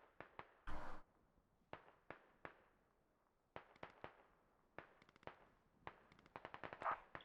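Friendly troops fire guns in a military video game, sharp shots in single cracks and short bursts spread across the clip, some close and loud and others thinner, against a quiet background.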